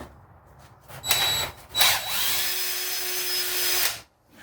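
A power tool whirs against a Porsche Cayenne brake rotor, scuffing its surface, with two short bursts followed by a longer sustained run whose pitch holds steady before it stops, close and loud.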